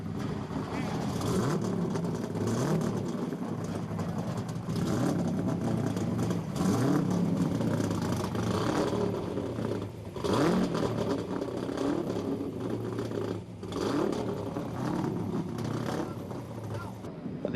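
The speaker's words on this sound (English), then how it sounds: "Gentlemen, start your engines." Race car engines start up and rumble together on the grid at Mount Panorama for the 1988 Bathurst 1000, a dense mass of revving engine noise that rises and falls, with a commentator talking over it.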